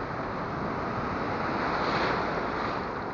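Ocean surf rolls onto the beach in a continuous, broad wash of breaking waves, steady and fairly loud, with wind noise buffeting the microphone throughout.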